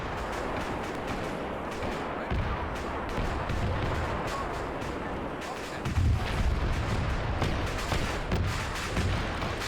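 Multi-laser turret fire in the Warhammer 40k video game Spire Defense: a loud, dense, continuous barrage of booming shots with heavier low thumps around two and six seconds, sustained throughout without pause.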